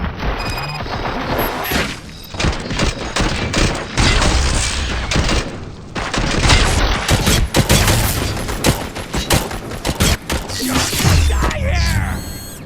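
Sustained gunfire volley from the video game RoboCop: Rogue City, dense bursts and booming impacts crowding together for about twelve seconds, loud and continuous with crashes mixed in.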